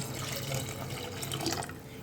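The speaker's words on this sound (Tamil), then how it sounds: "இப்போ தேவையான தண்ணி ஊற்றிக்கலாம்." Water runs steadily into a pressure cooker, a continuous splashing pour with a faint metallic ring, close by and without talk.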